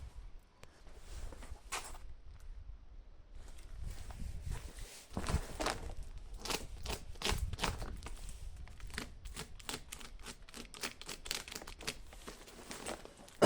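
Crinkly plastic and tape rustle and rip in bursts as a parcel bag is handled and torn open, with irregular crackling and short tearing strokes close by.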